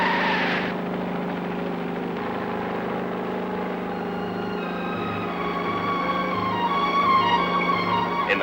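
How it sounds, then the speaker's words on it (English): Racing car engines roar and whine over a racetrack, with rising and falling engine notes and tire screeching mixed into a steady, loud wall of motor noise. "the press helicopter adds its noise to the bedlam of racing engines and screaming tires"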